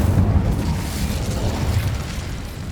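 A loud, sustained fiery explosion from the Incendio spell in Hogwarts Legacy, with a deep rumbling roar and crackle that holds steady and eases only slightly toward the end.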